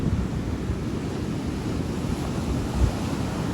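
Ocean waves wash onto Myrtle Beach, South Carolina, on a breezy day, a steady roar of surf with gusting wind buffeting the microphone throughout and no voices.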